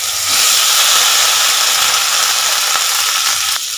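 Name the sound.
ridge gourd slices frying in hot oil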